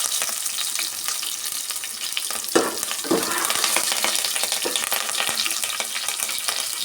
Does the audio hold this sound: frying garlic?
yes